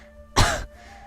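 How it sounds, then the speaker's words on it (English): A single harsh throat-clearing cough, voiced as part of a game narration, bursts out loud and close for about a quarter second over a faint steady background hum. "Free from scrutiny, I continue to hack and cough."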